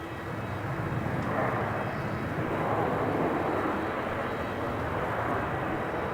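A Jetstar airliner on final approach to Melbourne Airport gives a steady, fairly distant jet engine roar that holds at an even level throughout, with light wind on the microphone.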